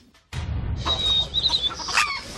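A chicken clucks and squawks close by in a few short, agitated bursts over steady background noise.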